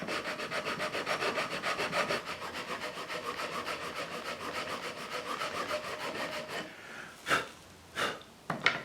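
Steady rhythmic abrasive rubbing of a worn-out belt-sander belt against wood for a birdhouse, repeated back-and-forth strokes, close and fairly loud, then a few separate scrapes near the end.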